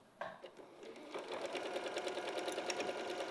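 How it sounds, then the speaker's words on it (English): A sewing machine runs steadily, stitching a quarter-inch seam on a cushion, its motor whirring in a continuous fast hum after a brief start. "we're going to sew 1/4 inch either side of that line"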